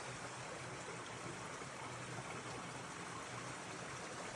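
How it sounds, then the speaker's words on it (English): A river running beneath a pile of boulders in Mahoosuc Notch gives a steady, even rushing wash of water, muffled and continuous from start to finish with no voices. "What's really cool is listening to the river that's running underneath this pile of boulders."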